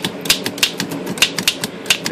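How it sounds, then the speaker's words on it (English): Typing on a 1920 Oliver No. 5 batwing three-bank typewriter, a close, loud run of sharp mechanical key strikes at an uneven steady pace, with no voices. "Let's put a piece of paper in here and type on this a second here."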